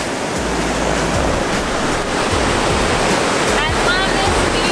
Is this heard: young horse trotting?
no